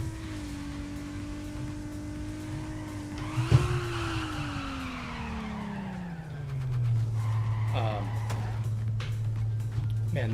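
Nissan 180SX drifting in the Torque Drift 2 racing game, the engine whining as the revs drop, then tire squeal and a skid as the car spins out, with a steady engine drone carrying on throughout.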